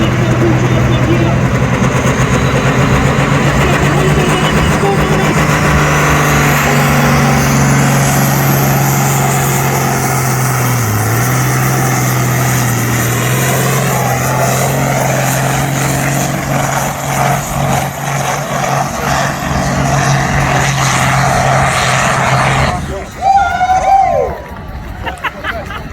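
Six-cylinder turbocharged pulling tractor at a tractor pulling event in Brechin, Scotland, drones with a steady low engine tone and rising turbo whine over crowd babble, then cuts off near the end amid nearby voices.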